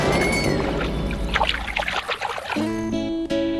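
A muddy teddy bear is washed in a stream, with water splashing and trickling for a couple of seconds before music takes over near the end.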